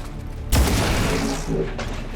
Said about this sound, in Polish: I strzał z pistoletu.